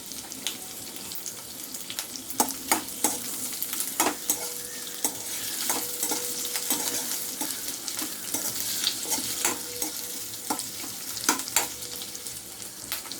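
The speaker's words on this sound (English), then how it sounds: "You can stir fry for a few minutes till you see the color" Vegetables for kadai paneer stir-fried in a pan over a medium flame, with a steady sizzle broken by frequent sharp scrapes and clatters of the spatula throughout.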